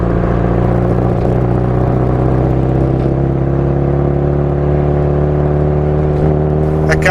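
A car drives over a rough stretch of road, its engine rumble and road whir loud and steady for the whole stretch, with no talking.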